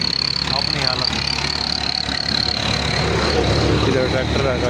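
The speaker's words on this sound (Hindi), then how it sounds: "इधर ट्रैक्टर का शोर है" A tractor engine runs steadily close by, a continuous low rumble and drone with no breaks, heard while someone talks over it beside a parked Toyota Hiace 2019 van.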